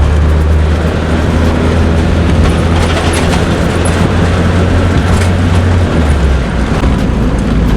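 A $950 junkyard Honda Civic with a failing clutch merges onto the freeway, its engine and road noise forming a loud, steady low drone heard from inside the cabin for the whole stretch.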